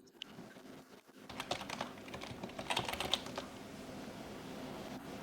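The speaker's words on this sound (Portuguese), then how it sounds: "digitar esse nome de modelo" Keystrokes on a computer keyboard enter a laptop model name, a steady run of light clicks over about four seconds after a brief quiet start, close and moderately soft with no voices.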